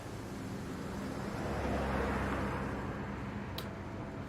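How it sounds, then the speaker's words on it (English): Steady road traffic with cars passing in INFRASPACE, a continuous broad rumble of tyres and engines that swells in the middle and holds at an even level throughout. "I like how when you zoom in you get the noise of cars going by"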